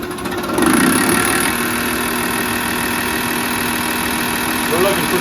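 A diesel truck engine rebuilt with a new injection pump, injector set and turbo upgrade settles at low idle, a steady, continuous mechanical rumble close by with a slight rise in loudness near the start and people talking over it.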